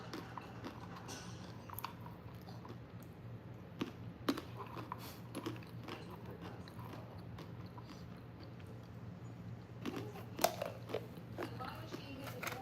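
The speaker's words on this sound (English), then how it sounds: "I'm munching." Close, quiet munching of food: soft irregular crunches and bites scattered throughout, with low room hum beneath and no talking.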